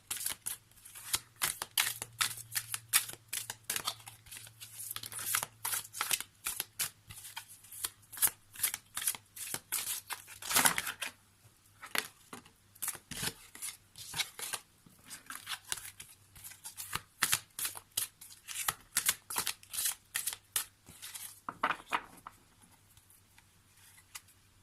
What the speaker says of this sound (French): Allez, on va prendre une carte issue du tarot de la bienveillance.